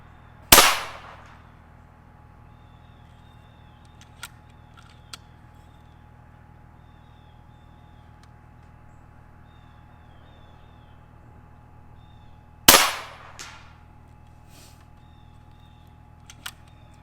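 An FX Maverick VP air rifle fires two sharp, loud shots about twelve seconds apart, each with a short decaying tail, and faint small clicks fall between them over a low steady hum.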